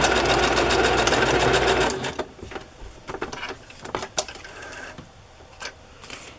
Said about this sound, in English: I think I'll just do another row of stitching there.